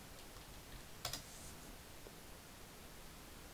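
A computer mouse gives a quick double click while someone works in Microsoft Project, two sharp, faint clicks close together against a quiet background hiss, with nothing else heard.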